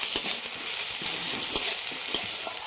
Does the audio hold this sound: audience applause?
no